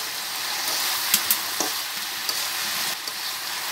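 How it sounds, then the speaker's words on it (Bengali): Fresh country beans sauté in a pan over a clay stove, giving a continuous bright sizzle with a few sharp spatula clicks and scrapes, close up and with no voices. "সিমগুলো ভালো করে কষায় নেওয়া হইতেছে।"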